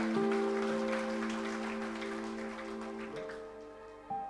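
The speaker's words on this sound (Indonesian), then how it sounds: "Tepuk tangan bagi Allah kita" Congregation clapping during a Christmas worship service at a church, a broad wash of hands under steady sustained organ-like music tones that shift pitch near the end.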